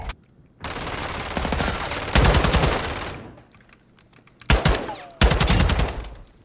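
Rapid automatic gunfire from the video game Warzone 2.0, loud bursts rattling close up in several stretches separated by short pauses.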